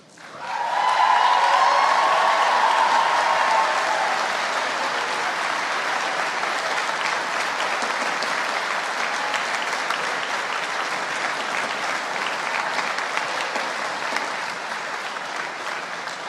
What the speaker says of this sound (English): give a huge round of applause for everyone in this room and the University of Northampton's class of 2018